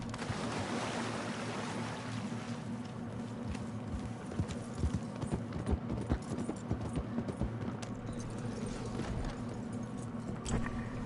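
Horse hooves clip-clop steadily in the Red Dead Redemption 2 video game, a continuous run of soft footfalls over a constant low ambient hum, with no talking.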